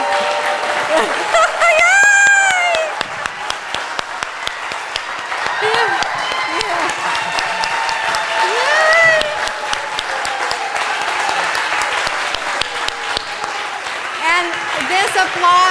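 Congregation applause at a Sunday service: sustained crowd clapping with scattered sharp claps, mixed with cheers, whoops and voices calling out, loud at first and continuing beneath the chatter.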